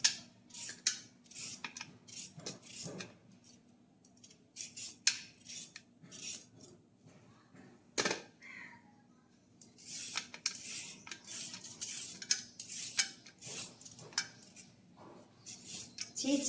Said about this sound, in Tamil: வாங்க கேரட்டை தோலை சீச்சிக்கலாம்.